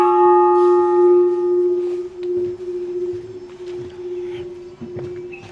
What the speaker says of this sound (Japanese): この鐘の音がさ、 響く街って美しいな。